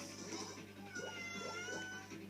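A pet cat gives a short series of soft meows, three or four quick calls close by but faint, over a low background hum.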